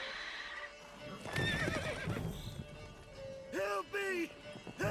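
Roach the horse in The Witcher 3 gives several loud, close whinnies over trotting hoofbeats, with the neighs coming in distinct bursts and someone talking in between.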